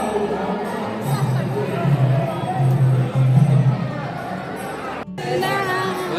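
A dense crowd murmurs and chatters steadily inside an ISKCON temple, a continuous hubbub of many voices filling the space, with a brief dip near the end before the babble resumes.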